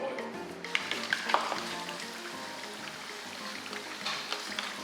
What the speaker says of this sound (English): hence why we're frying the latkes in hot oil